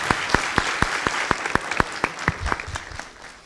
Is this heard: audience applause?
yes